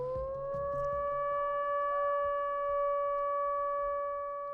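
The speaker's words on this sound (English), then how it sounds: "every evening at 6 p.m., a siren would pierce the air" A town warning siren in Minden, Nevada holds a steady, sustained wail, droning evenly and fairly loud over faint background noise.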